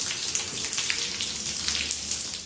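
Water drips and patters steadily through a leaking hospital ceiling, a dense, close spray of small droplet impacts with no voices.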